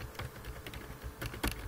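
Keys clack on a computer keyboard as text is typed into a worksheet, a quiet, irregular patter of close taps with a few firmer strokes near the end.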